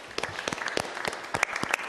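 Scattered clapping from a board meeting audience honoring the Youth Leadership Institute, sparse and uneven rather than a full ovation, moderately quiet.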